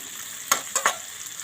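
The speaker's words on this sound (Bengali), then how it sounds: "এখন চিংড়ি মাছগুলো ফ্রাই করব।" Prawns seasoned with turmeric and salt fry in a pan, with a quiet, steady sizzle broken by three brief, close spatters or stirring scrapes in quick succession.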